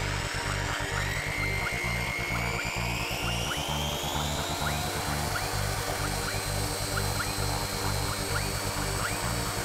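A polishing machine spreads headlight restoration product and then speeds up, giving a steady loud motor whir with a rising pitch and no pauses or talking.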